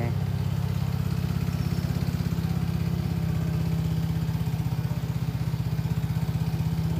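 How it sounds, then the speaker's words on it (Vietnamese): A Piaggio scooter engine idles steadily and close after a battery replacement, with an even, low, rapid putter throughout. "Nổ máy nhẹ nhàng."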